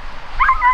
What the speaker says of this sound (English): when I see all these dogs and they're so good and so smart